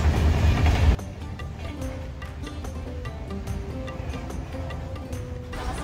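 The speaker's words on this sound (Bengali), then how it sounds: "ওদিকে ক্রস করছে হাওড়া রাজধানী এক্সপ্রেস।" Howrah Rajdhani Express crossing on an adjacent track, heard from inside a moving train as a steady rumble with repeated clicking wheel beats over about six seconds, after a brief louder burst at the start.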